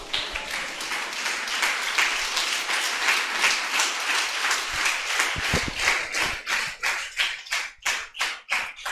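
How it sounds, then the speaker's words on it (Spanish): Church congregation applauding during a sermon, a dense burst of clapping that gradually thins into slower, distinct rhythmic claps near the end as the applause fades. "Regálenle un aplauso al Señor"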